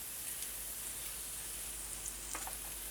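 Onions deep frying in hot oil for chicken biryani, a faint steady sizzle and hiss with a few brief crackles and pops, no voices.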